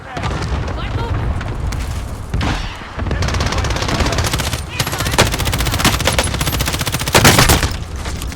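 Dense, loud automatic gunfire from Call of Duty Warzone rattles almost without a break, with a brief lull before the shooting resumes and a few heavier booms, while voices talk over it.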